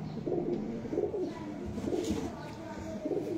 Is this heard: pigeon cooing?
yes